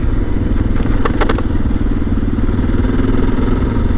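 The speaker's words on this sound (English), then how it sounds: "That rattle is my dang fender pack." A fender pack holding an inner tube rattles on a Suzuki DR650 dual-sport motorcycle as it rides along a road, the light clatter close and continuous over the steady drone of the engine.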